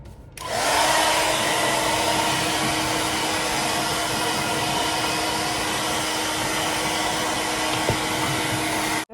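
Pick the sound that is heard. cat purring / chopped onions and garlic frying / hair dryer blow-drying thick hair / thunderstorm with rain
hair dryer blow-drying thick hair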